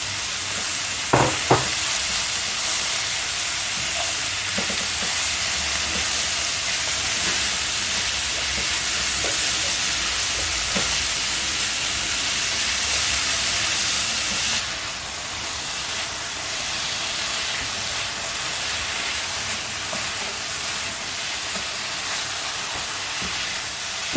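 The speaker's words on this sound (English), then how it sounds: "Now stir fry this again for another minute." Vegetables with orange bell pepper, mixed herbs and salt are stir-fried in a pan, giving a steady, close, continuous sizzle with a few faint clinks of stirring and no talk.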